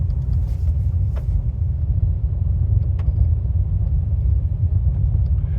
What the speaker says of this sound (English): I'm just out driving my Maverick just for the hell of it.